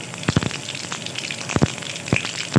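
Mustard seeds hit hot oil as a tempering for a stuffed gourd curry, giving a low steady sizzle punctuated by a few sharp crackling pops, close and moderate in level.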